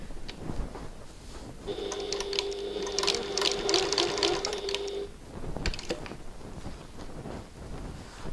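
Sewing machine stitching a button lock bag, a steady whirring run of stitches for several seconds, close and moderately loud, with brief handling clatter around it.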